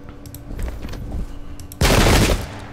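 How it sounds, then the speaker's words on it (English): Musket volley fire in the Pike and Shot strategy game: a loud, sudden burst of massed gunfire crashes in near the end over a steady low battlefield rumble and scattered distant shots. "Go ahead, open fire."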